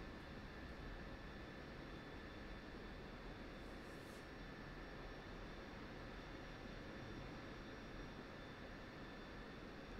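An aircraft engine in the DCS flight simulator game on the Syria map gives a faint, steady, unbroken drone with a thin tonal whine, continuous throughout with no talking.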